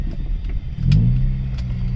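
A Honda Civic Si EP3 engine revs hard above 5,000 RPM, a continuous mid-pitched drone that swells as it climbs, heard from inside the car while driving.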